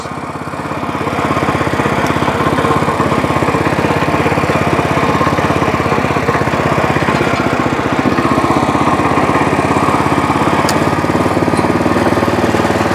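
Loud, steady engine of a WEIMA WMX5 walk-behind tiller with an active rotary cutter, running close by without pause, a constant rough mechanical drone that holds level throughout.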